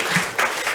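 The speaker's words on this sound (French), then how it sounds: "On peut les applaudir." Brief burst of audience applause at a forum, a dense wash of clapping that swells in a few quick waves and fades within a second.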